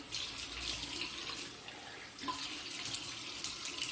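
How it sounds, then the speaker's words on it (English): Tap water runs into a bathroom sink while a face is being rinsed, a soft, steady stream with light splashing throughout and no talking. "Let me rinse off my face."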